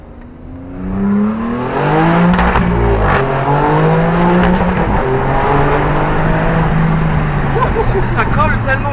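An Alfa Romeo Stelvio Quadrifoglio with an Akrapovic exhaust revs up loudly, its engine note climbing and falling through several rising sweeps, heard close from inside the car with road and wind noise; speech is also present.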